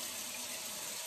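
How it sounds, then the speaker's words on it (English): A copper pot is rinsed under running water: a steady, hissing rush of tap flow, close and even, with no talking. "I'm just gonna rinse this off."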